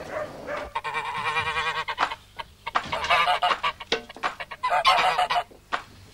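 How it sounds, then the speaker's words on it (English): Two birds honk loudly in a comedy sketch, repeated goose-like calls in uneven bursts, close and clear with short gaps between them. "So, Jim, what's those two birds doing in here, then?"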